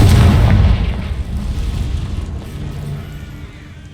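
A Confringo blasting spell goes off in Hogwarts Legacy, a loud deep boom that erupts at once and then rolls away into a long rumbling decay, heard alone.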